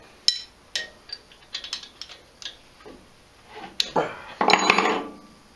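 Ratchet wrench working a stud out of a VW engine cylinder during a trike build, a series of short, close metallic clicks and ratcheting bursts in uneven rhythm, ending in a denser, louder run of clicks.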